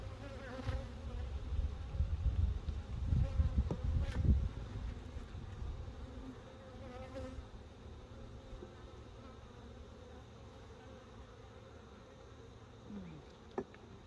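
Honeybees buzzing around an open hive during an inspection, a steady dense hum that is louder and busier for the first few seconds, then settles into a quieter continuous drone with a brief sharp knock near the end.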